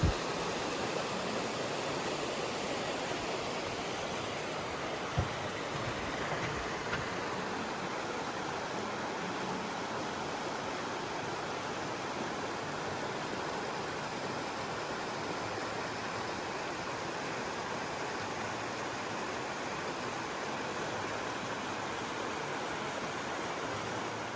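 The Toxaway River rushes steadily beneath a suspension bridge on the Foothills Trail, a continuous broadband wash of flowing water, even and fairly distant, with no voices.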